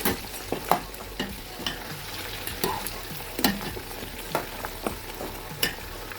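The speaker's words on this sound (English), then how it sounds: "Now my meat is fried enough." Meat frying in oil with sliced onions for a tomato stew, a steady sizzle broken by several sharp scrapes and knocks of a stirring utensil against the pan, close and fairly loud, with no talking.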